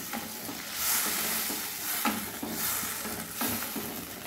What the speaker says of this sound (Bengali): এবার আমি ঝোলের জন্য জল দিয়ে দিলাম।